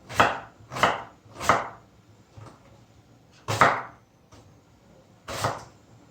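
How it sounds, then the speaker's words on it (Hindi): A kitchen knife slices capsicum finely on a cutting board, five sharp, crisp chops heard close and alone, three in quick rhythm and then two more after short pauses. "अब इनको भी बारीक बारीक पतले कतलों में इनको काटना है।"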